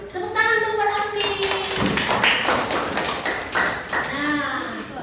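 Classroom applause for a student, short bursts of clapping and tapping mixed with a teacher's voice speaking over it.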